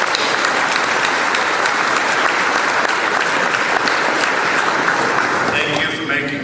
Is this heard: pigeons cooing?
no